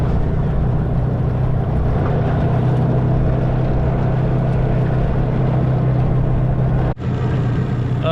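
A small outboard motor on a tinny boat idles smoothly, a loud, constant engine drone that holds steady throughout with one brief dip near the end.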